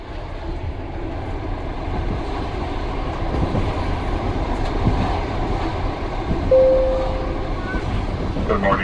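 Interior of a passenger train bound for Montreal, a steady low rumble and rolling rail noise filling the carriage throughout, with a brief tonal whine partway through and faint murmuring voices underneath.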